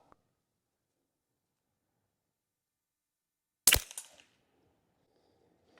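A single sharp rifle shot cracks out of near silence at the range, loud and close, followed by a short rumbling decay, from a rifle fitted with a Telson 5-32x56 scope.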